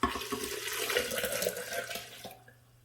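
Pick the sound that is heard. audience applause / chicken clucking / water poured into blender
water poured into blender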